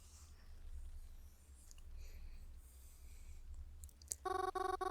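Text message notification in the visual novel game Cemetery Mary, a bright repeating electronic chime that suddenly starts after a quiet stretch with faint low background hum.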